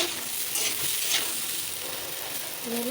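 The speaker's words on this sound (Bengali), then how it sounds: "কুদরি ভাজা কুদরি ভাজা হচ্ছে" Steady, close sizzling of ivy gourd frying in a hot pan, with occasional scraping as it is stirred; nobody speaks.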